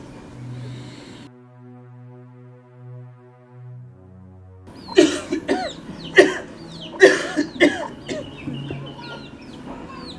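A few seconds of quiet low tones, then a run of harsh, hacking coughs in close, uneven bursts.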